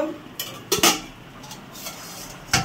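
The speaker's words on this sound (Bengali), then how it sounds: "এবারে ঢেকে রাখবো।" A lid goes onto a cooking pot of prawns and taro-stem greens: two quick metallic clanks close together near the start, then a single clink near the end, short and fairly quiet against a low kitchen hum.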